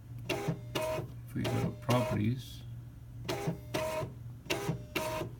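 A printer produces a test page in a run of rhythmic mechanical bursts over a steady hum, while someone talks over the printing.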